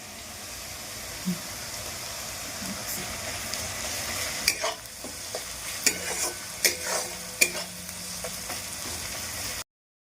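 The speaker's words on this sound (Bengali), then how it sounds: "পেঁয়াজটাকে আমি একটু ভেজে নেব" Onion fries in a pan with a soft, even sizzle. A run of clinking spatula stirs and scrapes comes in the second half before it cuts off.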